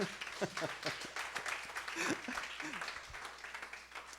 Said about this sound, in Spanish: Dale el aplauso a Dios, pues.